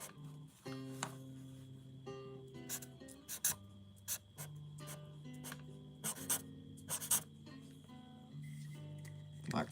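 Pen or pencil writing on paper during a hand-drawing art session, a close, soft scratching with quick strokes and taps, while guitar-like tonal notes and faint talk sit underneath.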